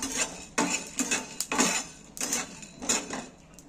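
Whole spices, cinnamon, cardamom, cloves and dried chillies, clatter into a pot for chicken biryani, with several sharp metallic knocks and rattles of a spoon against the pot at an uneven rhythm.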